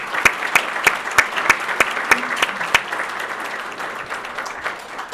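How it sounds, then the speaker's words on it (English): Applause at a family business awards event: sharp, loud, evenly spaced claps near the microphone stand out over a softer spread of clapping from the audience, which thins out toward the end. "Please give them a round of applause."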